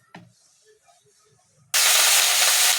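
Potatoes dropped into hot mustard oil set off a sudden loud, sustained sizzle after a quiet stretch with a few small clinks.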